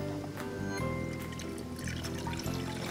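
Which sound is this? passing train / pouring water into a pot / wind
pouring water into a pot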